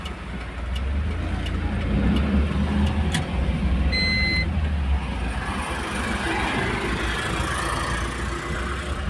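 Road traffic rumbles past, a continuous near engine drone of cars and heavier vehicles with a few sharp clicks and a brief tonal beep partway through, and no voices.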